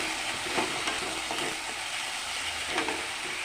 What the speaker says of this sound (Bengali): এখন আমি দিয়ে দেবো লঙ্কা বাটা আদা বাটা রসুন পাতা পেঁয়াজ বাটা একসাথে দিয়ে দিলাম